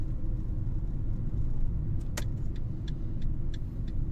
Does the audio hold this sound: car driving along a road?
yes